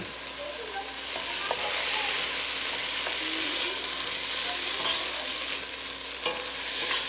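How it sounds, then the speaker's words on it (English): Small Roma tomatoes sauté with onions and garlic in vegetable oil, sizzling loudly and continuously with occasional scraping of a stirring utensil. "After the onions and the garlic are sauteed, we are going to add 3 of the small Roma tomatoes."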